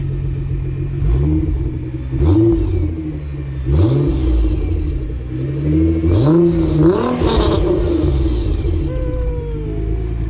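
A Nissan R35 GT-R Stage 2 with a V6 rumbles loudly nearby, its engine swelling in a series of throttle blips and rising revs between steady deep idling, over roughly ten seconds.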